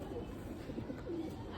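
Pigeons cooing, a soft low murmuring coo repeated a few times against a steady rumble of background noise at moderate distance.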